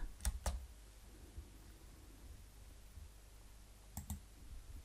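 Sharp keyboard key clicks from a computer in an Excel spreadsheet lesson, a quick pair near the start and another pair near the end, with quiet room tone between them and no talk.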